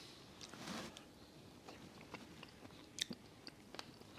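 Someone chews a mouthful of strawberry blackberry cobbler with crust, giving soft, close, faint mouth sounds with a few small crunchy clicks over about four seconds and no talking.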